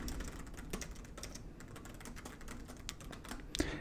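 Quiet typing on a computer keyboard while writing code, a steady patter of close key clicks with a few sharper taps, no talk.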